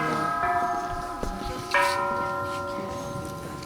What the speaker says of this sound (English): You're ringing your bell.